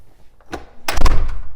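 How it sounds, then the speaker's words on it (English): A storm door with a freshly adjusted door closer swings shut, giving a soft creak and then a loud, close thud of the door settling into its frame, alone without talk. "So now my door should shut again."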